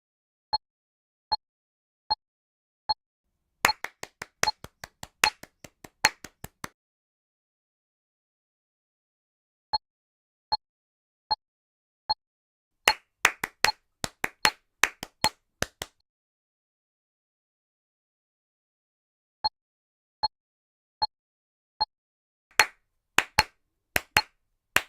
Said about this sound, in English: Now just clap the notes along with the metronome.